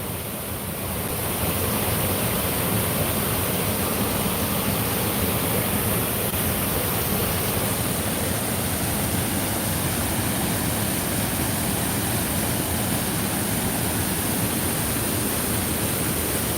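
Water rushing beneath a sheet of ice makes a steady, loud broadband hiss and roar, continuous and unchanging, with no talk over it.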